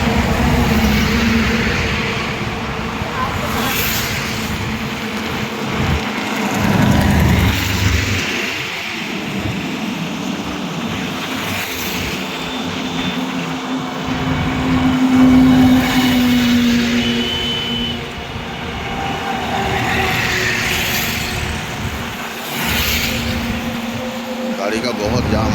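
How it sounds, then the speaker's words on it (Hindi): Heavy 18-wheel dumper trailer trucks grind along a jammed national highway, their loud, continuous engine roar and rumble rising and falling over the whole stretch, with a person talking over the traffic. "सब 18 चक्का डंपर टेलर।"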